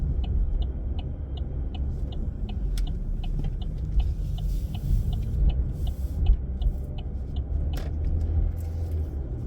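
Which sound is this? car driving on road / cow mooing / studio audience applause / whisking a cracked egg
car driving on road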